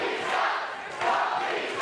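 A wrestling crowd at a live show chants in two swelling waves for Rocky Menero, a loud, massed roar of voices filling the arena.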